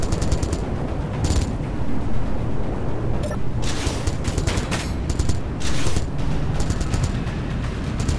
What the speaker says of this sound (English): Got a missile turret and a regular turret on my big ship now.